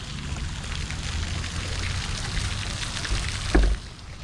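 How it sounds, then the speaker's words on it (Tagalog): Water splashes and pours steadily from a fountain in Toronto, a continuous close hiss with one brief louder splash near the end. "Ito yung fountain rito."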